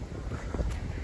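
Outdoor wind buffets a microphone on a windy university campus, a steady low rumbling roar with gusty bumps and no speech.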